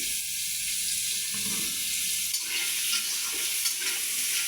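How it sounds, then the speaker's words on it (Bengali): Onions and potatoes fry together in a pan, a close, continuous sizzle with soft stirring noises and no voices. "পেঁয়াজটাও কিন্তু লাল লাল হয়ে গেছে আলুটাও ভাজা হয়ে গেছে"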